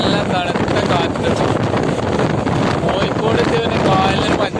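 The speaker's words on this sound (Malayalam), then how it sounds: "നല്ല തണുത്ത കാറ്റ്." Cold wind blowing by the Kadalundi backwater in Kozhikode, buffeting the microphone with a loud, gusty rumble and rush throughout, with some talk mixed in.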